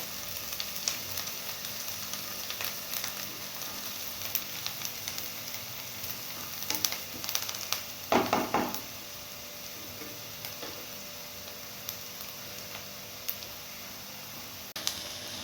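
Onions sauté in a pan for a village-style whole masoor dish, giving a steady soft sizzle with scattered ticks and a brief louder stir partway through, close and without talk.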